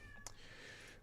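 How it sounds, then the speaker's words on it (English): A house cat lets out a short meow, faint and close, over a quiet room hum with no talking. "Sorry for my cat. My cat is getting crazy again."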